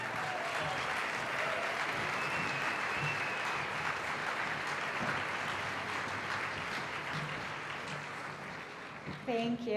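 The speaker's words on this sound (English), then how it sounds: "Let's give them a great big round of applause." Sustained audience applause at a family music entertainment event fills the room evenly for nearly ten seconds, dense and steady, fading slightly near the end as a voice begins.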